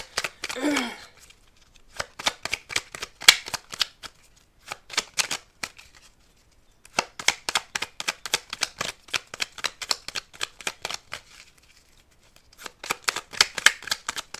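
Tarot cards are shuffled by hand in short bursts of crisp riffling and slapping, each run of rapid clicks separated by brief pauses, close and clear with no voices.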